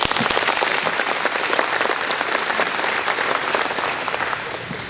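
An agricultural awareness event audience applauds its sponsors, a dense, even wash of many hands clapping that holds steady and begins fading at the close.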